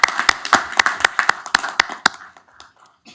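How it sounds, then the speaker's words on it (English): A round of applause at a city council work session, a small group clapping in sharp distinct claps that thin out and fade after a couple of seconds. "Let's round of applause."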